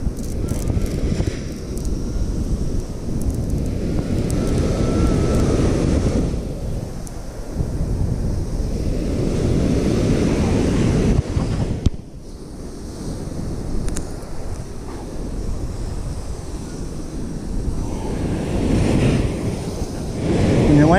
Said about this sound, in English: you gotta utilize these waves